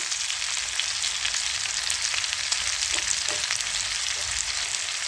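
Chicken liver sizzles steadily in a hot pan as it is stirred with chili powder and masala, a dense continuous frying hiss with occasional faint spoon scrapes, close and even throughout with no voices.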